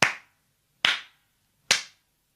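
Three sharp hand claps, evenly spaced and close, each a crisp smack with a short decay into silence.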